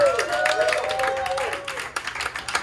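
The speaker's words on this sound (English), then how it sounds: "Guys, big round of applause for Nathan." An audience at a paranormal-themed open mic night in a deli claps in a short burst of applause that thins out after a couple of seconds, with a voice speaking over it.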